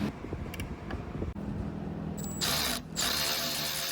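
A Milwaukee power ratchet spins on radiator bolts in a Jeep Wrangler JK 3.6L engine bay. A brief mechanical whir is followed by a louder, harsher ratcheting burst with a short break, heard close up without talk.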